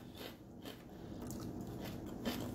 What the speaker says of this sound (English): You guys hear that crunch on that crust?